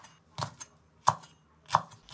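Three sharp knife chops on a cutting board, spaced unevenly, close and clear with quiet between them, as red chili is cut into diamond-shaped slices.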